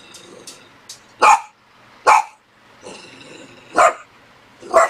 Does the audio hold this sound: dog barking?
yes